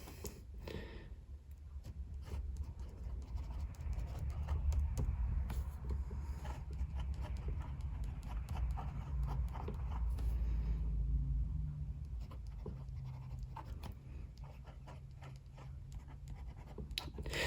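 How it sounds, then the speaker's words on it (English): A Lamy 2000 fountain pen inked with Diamine Oxford Blue scratches across toothy paper in an Archer and Olive B6 notebook, giving close, continuous papery scraping strokes with brief pauses between words and no talking. "I'm going to do a writing sample in it right here now."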